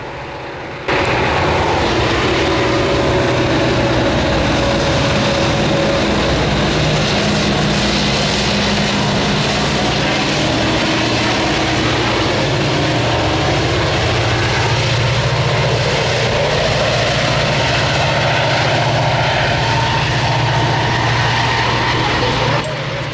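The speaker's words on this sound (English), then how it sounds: "After the SD40Es pass us, an NS westbound coal train came by, being led by NS 7682 and 6710." Norfolk Southern SD40E locomotives pass, followed by a westbound coal train led by NS 7682 and 6710 in Pennsylvania: a loud, sustained diesel rumble with steady rolling rail noise that holds for the whole stretch, with no talking.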